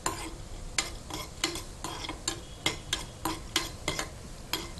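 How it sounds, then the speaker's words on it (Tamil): Small broken cashew pieces sizzle in hot ghee in a pan that is not nonstick, with a spoon scraping through them. Quick, regular stirring strokes sound up close over a steady background crackle. "இந்த நெய்யில் நம்ம முந்திரி பருப்பை நான் சிறு சிறு துண்டாக உடைச்சி சேர்த்துருக்கேன்"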